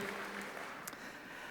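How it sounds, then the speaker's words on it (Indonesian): A church congregation at a morning service claps for the service team, a dense, steady wash of applause that holds evenly throughout, slightly distant and without any voices over it. "Boleh berikan tepuk tangan buat seluruh tim yang melayani pada pagi hari ini."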